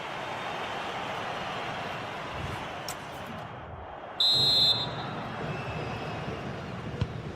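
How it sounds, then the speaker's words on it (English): A referee's whistle blown for half-time in a France football match, one short shrill blast of about half a second rising above steady stadium crowd noise. "the whistle is sounded for half-time in this game"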